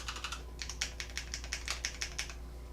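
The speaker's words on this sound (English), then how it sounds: "These are Cherry MX Red Speed Edition," Rapid typing on a keyboard with Cherry MX Red Speed Edition switches, a steady run of light, crisp key presses close by, with no voices.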